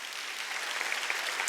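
A church congregation at a Wednesday worship service clapping together, a dense, even patter of many hands at moderate distance, brief and fairly soft, without speech.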